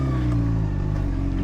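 Steady droning exhaust note from a Honda CBR600RR motorcycle, heard up close as a continuous, loud engine hum with no talk.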